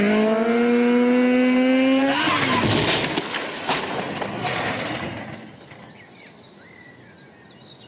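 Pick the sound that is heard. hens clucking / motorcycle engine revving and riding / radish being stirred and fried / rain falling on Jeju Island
motorcycle engine revving and riding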